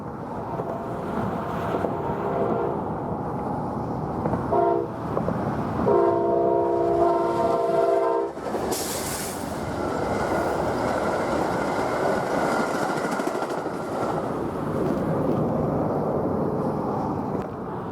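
An Amtrak passenger train rolls past near Los Cerrillos in Santa Fe County, New Mexico, with a steady rumble of wheels and cars throughout and loud, sustained blasts of its multi-tone horn in the first half.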